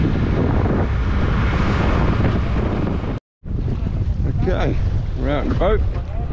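Small boat sitting at sea just off a fish farm, with heavy wind buffeting the microphone and water sloshing, loud and continuous apart from one brief cut, and a voice talking over it later.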